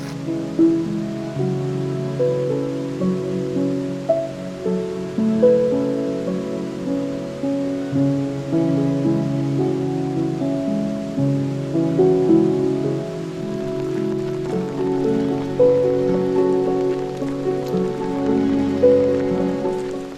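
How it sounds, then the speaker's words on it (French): Heavy rain pours steadily and loudly in the Swiss Alps, a dense, continuous drumming on surfaces with no voices, unbroken for the whole stretch. "J'ai jamais vu une telle pluie."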